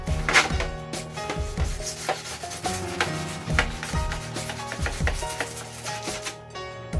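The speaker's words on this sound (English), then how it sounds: "Sand the inside of this." Rhythmic back-and-forth sanding on the inside of a clone armor leg piece, close and steady, each stroke a rasping rub repeating about once per second.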